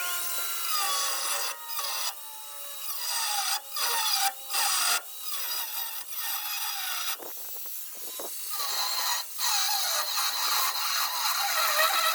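Tools cutting away old rusted sections of a classic Volkswagen bay window bus, a loud close-up grinding and rasping with repeated bursts that stop and start, metallic ringing tones in between and no talking.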